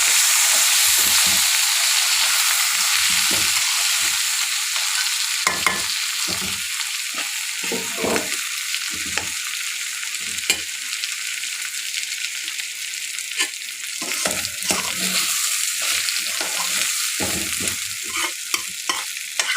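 Chicken pieces fry loudly in a pan with a steady, crackling sizzle. Irregular stirring scrapes and clunks sound throughout, close and continuous, with no voices.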